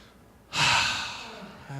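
A single deep breath, a sudden, close, airy inhale that swells and then fades into a softer exhale, heard alone for under two seconds.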